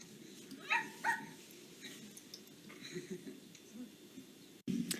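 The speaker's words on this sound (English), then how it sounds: "Oh, it's a puppy." A puppy yips and barks a few times in short bursts, fairly close, over a low background hum.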